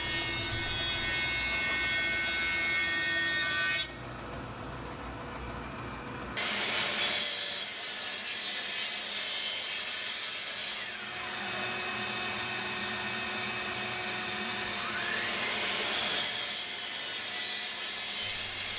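Saw cutting PurpleHeart and other exotic hardwood boards into sides for through dovetails on a homemade bench vise: a continuous loud grinding drone that dips briefly partway through, then resumes, with no voices.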